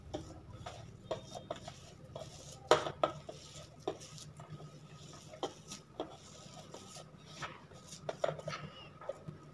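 Paneer, coconut and jaggery being mixed with milk powder in a bowl, giving soft scraping and occasional light clinks of utensil against dish, with a steady low hum underneath and no talk.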